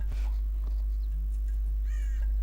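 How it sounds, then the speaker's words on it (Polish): A raven caws in the video game Rise of the Argonauts, giving a few harsh calls over a steady low background hum, with the clearest cry near the end. "A tu jest kruk."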